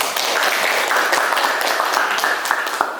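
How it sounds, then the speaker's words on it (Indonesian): Students in a classroom applaud their classmates, a brisk round of many hands clapping close by that carries on for a few seconds. "Kasih tepuk tangan untuk teman-teman."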